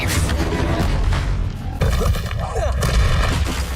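Confringo spell blast in Hogwarts Legacy, a loud booming explosive burst with roaring rumble over a busy battle din, a second heavy impact cutting in partway through.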